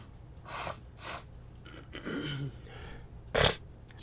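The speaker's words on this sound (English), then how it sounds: "Excuse the sniffles, you guys." Someone in a chilly room sniffles close to the mic, giving three short, sharp nasal sniffs spaced irregularly against a quiet background.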